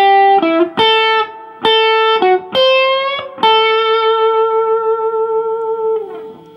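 A blues lick on electric guitar played slowly: spaced, clearly picked notes with slides and bends, finishing on a long sustained note that rings out and fades, close and clean with no voices.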